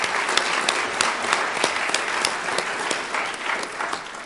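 An audience claps steadily for the contributors to a book, a dense roomful of hands applauding at an even, fairly loud level throughout with no voices over it.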